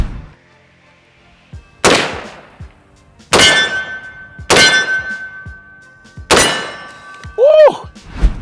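Five loud, sharp gunshots from a SCAR 17S .308 rifle fired during a recoil test, spaced about a second or more apart, each with a ringing metallic clang and decaying echo.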